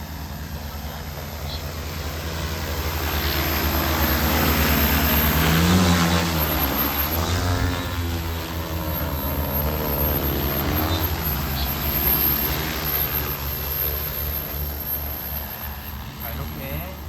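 An NV20 agricultural spraying drone flies and banks through a smooth turn, its rotors producing a loud, steady buzzing whir that swells and shifts in pitch as it passes, with someone talking over it.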